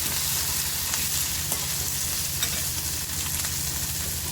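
Coriander is stirred into a sizzling fried-onion masala for Hyderabadi paneer. The frying makes a dense, steady hiss, and light stirring scrapes and clicks sit on top of it. The sound is close and even, with no voices.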